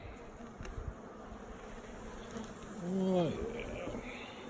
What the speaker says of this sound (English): Bees are very active here today.